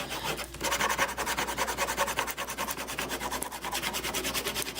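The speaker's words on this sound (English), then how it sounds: "And you just squeegee this on" A squeegee rubs vinyl down onto a wooden box in fast, steady rasping strokes, close and fairly loud, continuing without pause and with no talking.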